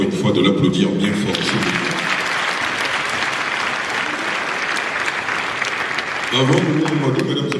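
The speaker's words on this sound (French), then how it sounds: "Je vous prie encore une fois de l'applaudir bien fort." Audience applause at a stage event following a children's philharmonic orchestra performance from Guinea, a sustained dense clapping wash lasting several seconds, with a voice over a loudspeaker at the start and end.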